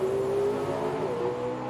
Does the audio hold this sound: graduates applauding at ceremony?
no